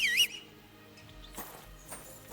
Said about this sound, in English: Or can I call my horse?